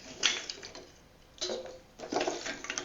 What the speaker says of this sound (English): Add all the shells into the water.